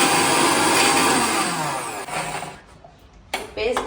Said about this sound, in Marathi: हे आता मी मिक्सरमध्ये वाटून घेते